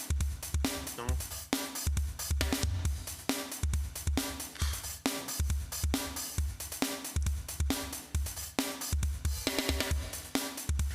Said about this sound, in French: Tu vois, c'est ce son de cette caisse claire.